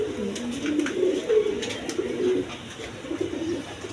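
A breeding pair of pigeons sitting on their eggs coos softly and steadily, low rolling calls repeating close by against a quiet background.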